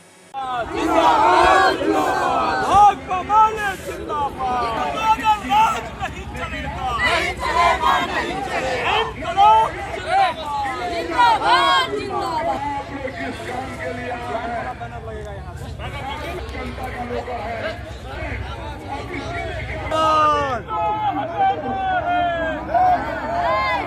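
Loud crowd of left-party and trade-union protesters at a street demonstration in Darbhanga during a nationwide strike, shouting and chanting slogans together in waves, continuous and close with dense overlapping voices.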